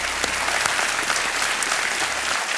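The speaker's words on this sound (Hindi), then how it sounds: "एक बार फिर तालियां बज जाएं इनके लिए।" A studio audience on a TV quiz show gives loud, sustained applause, a thick wash of clapping that carries on nearly unbroken to the end.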